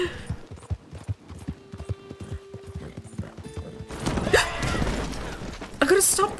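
Horse hooves clip-clop in a steady, rhythmic gallop while riding in Red Dead Online, near and clear, with a whinny and a louder commotion near the end; someone talks over the hoofbeats.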